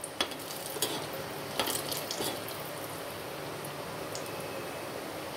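Shankarpali pastries frying in hot oil while a slotted metal spoon stirs them, a steady sizzle broken by a few scraping clicks of the spoon, close and alone.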